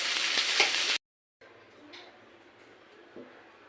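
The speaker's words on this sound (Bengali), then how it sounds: "পেঁয়াজ দিয়ে দেবো, নুন দেবো পেঁয়াজটা তাড়াতাড়ি ভেজে যাওয়ার জন্য।" Onions with salt frying in hot oil, with a loud close sizzle for a second, a brief pause, and then a quieter steady crackle with a faint stir.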